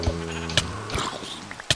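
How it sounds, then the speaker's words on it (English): Blocky sheep in Minecraft bleating in a survival game world, a few short wavering bleats at close range in an otherwise quiet scene. "Oh, there is white sheep."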